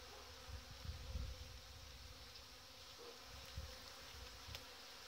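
Honey bees hum in a dense, steady buzz over frames lifted from a hive in a February apiary, a close, continuous drone with slight swells and no talk.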